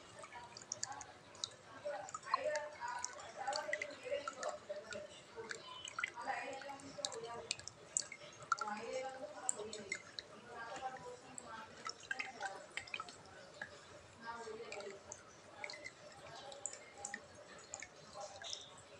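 Quiet, irregular water drips and small clicks during a home science experiment, scattered steadily across the whole stretch at close range with faint talking underneath.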